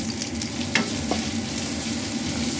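Ginger, garlic and white onion sautéing in hot oil for a stewed chicken, a steady low sizzle with a couple of brief stirring scrapes, close and unbroken, no talking.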